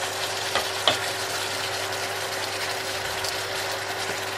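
Shrimp curry frying in a pan, a continuous close sizzle with a couple of faint stirring clicks, no talking.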